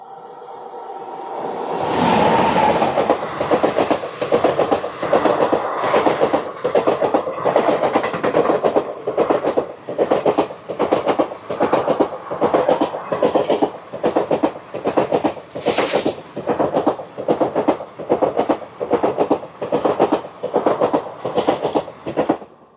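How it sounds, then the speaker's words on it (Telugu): Another train rushes past an express train on the Kakinada Port to Mumbai LTT route: a loud, close rhythmic clickety-clack of wheels on rail joints, repeating steadily for about twenty seconds with no talk. "ఆ ట్రైన్ జస్ట్ మా ట్రైన్ క్రాస్ చేసింది, వెంటనే తీసాడు."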